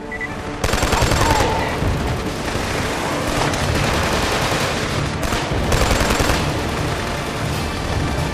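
Gunfire in the Killzone 2 shooter on PS3 rages almost nonstop during a convoy battle, with dense bursts of automatic rifle and machine-gun fire and booms, loud and close, with no clear speech.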